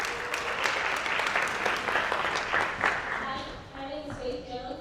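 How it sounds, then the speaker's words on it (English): A conference audience at Clark Atlanta University applauds for Michaela, a loud sustained round of clapping that tapers off near the end while a voice begins speaking. "Clap it up for Michaela."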